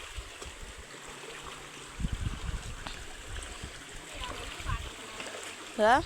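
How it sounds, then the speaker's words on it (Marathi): A river, now running low, flows softly over stones in a continuous quiet trickle, with people talking nearby and a brief louder knock near the end. "नदीला पाणी पण आता कमी झालं आहे"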